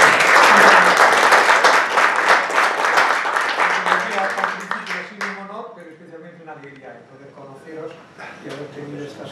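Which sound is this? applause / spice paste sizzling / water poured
applause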